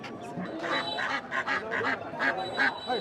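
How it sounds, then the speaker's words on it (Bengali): Peking ducks quack at a rural market in Bakshiganj, with repeated nasal calls coming in quick overlapping bursts, fairly close and steady over a busy background. "ভাই কি বেজিং হাঁস নিয়ে আসছেন"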